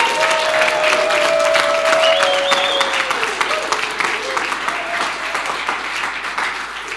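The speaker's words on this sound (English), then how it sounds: "so many people clapping about accountability" A conference audience claps loudly and continuously, sustained applause filling the room and gradually easing off, with a faint whistle-like tone sliding through early on.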